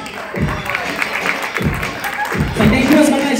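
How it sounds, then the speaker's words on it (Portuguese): An audience at a breakdance power-move battle in Manaus claps and cheers in short bursts, with a loud announcer's voice over the applause. "Salve de palmas aí."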